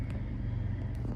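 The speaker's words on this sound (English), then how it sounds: "I apologize for my car scene and for the sound of my air conditioner" Car interior with the air conditioner running, a steady low rumble and airy hiss filling the cabin continuously, close and moderately loud.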